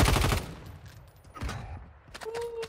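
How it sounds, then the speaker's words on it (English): Call of Duty Warzone gunfire: a loud burst of rapid automatic shots up front, then scattered distant shots and faint game noise, with another volley near the end. "Wait, the gunshots are so loud."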